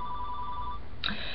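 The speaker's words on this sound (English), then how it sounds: "Sorry about that noise, guys. That's my phone over there." A mobile phone rings indoors, first as a steady electronic tone and then as a brighter, louder ring burst, over constant background hiss.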